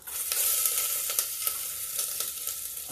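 Garlic hitting oil in a pan for a vegetable dish, a bright close sizzle that flares with a few sharp crackles and spatters, steady and loud over three seconds, no speech.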